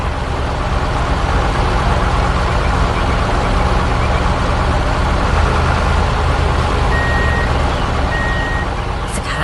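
Reversing beeps from an animated tow truck ring out steadily over a loud, dense engine rumble and noisy construction-site background, continuous throughout.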